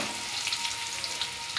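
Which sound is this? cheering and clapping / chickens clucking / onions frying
onions frying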